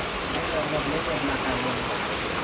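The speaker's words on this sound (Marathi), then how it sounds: "आज मुसळधार पाऊस लागणार आहे" Heavy monsoon rain falling in rural Konkan, a dense, steady, broadband roar with no breaks, close and fairly loud throughout.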